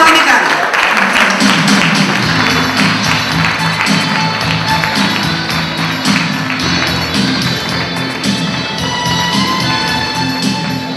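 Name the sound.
audience applause welcoming the singer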